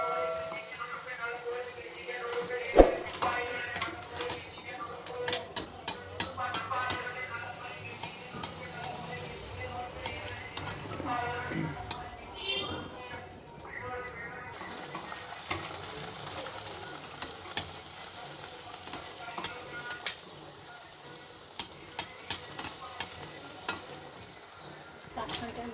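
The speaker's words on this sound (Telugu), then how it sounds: "వీటిని మరిగించిన నూనెలో వేసి బాగా వేయించుకోవాలి పొంగేదాకా" Puris frying and puffing in hot oil, heard as a bubbling sizzle with bursts of spatter and occasional utensil clicks, moderately close and otherwise quiet.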